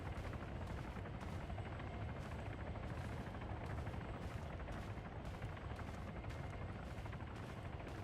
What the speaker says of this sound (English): audio's glitched because I still hear the helicopter